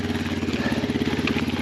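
The engine of the Mavic neutral service motorcycle at the Tour de France idles in a steady, throbbing, medium-pitched drone, loud and close, with no talk over it.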